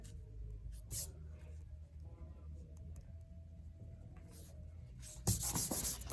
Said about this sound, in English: now you want to go back and clean everything up a little bit with your eraser